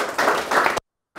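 A church congregation claps and cheers for God in a dense, loud burst of applause that cuts off abruptly into silence, then resumes briefly.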